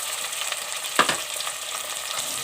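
Cubed potatoes fry in a pan alongside onions for a baingan aloo subzi, giving a steady, soft sizzle with light crackles and one brief stir or clatter in the middle, with no talking.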